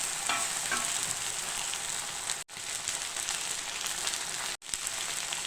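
Chicken pieces frying in hot oil in a pan, a steady dense sizzle that runs without a break apart from two short gaps where the sound cuts out.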